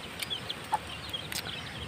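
Two chicks with a mother hen: faint, soft peeps and a brief cluck from close by are spread thinly over a quiet background hiss, with no talking.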